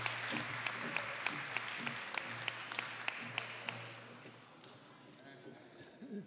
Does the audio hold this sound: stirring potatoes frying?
no